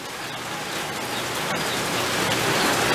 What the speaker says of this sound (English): When it rains here, it rains good.